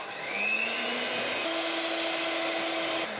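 An electric hand mixer whips cream in a bowl, a continuous whirring drone that shifts pitch partway through as the speed changes, steady and close with no talking.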